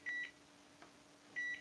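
A microwave oven sounds two short electronic beeps, spaced more than a second apart, faint and clear against a quiet room hum.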